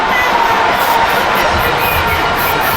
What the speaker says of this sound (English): And the response from the crowd